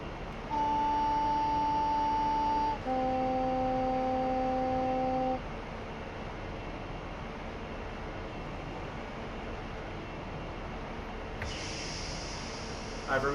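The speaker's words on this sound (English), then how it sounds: "I've removed the brakes completely at this stage, as you may have heard by that hissing." In the cab of a train running from Bristol to Exeter, a loud two-tone horn sounds at first over steady running noise, and later the air brakes are released with a sustained high hiss.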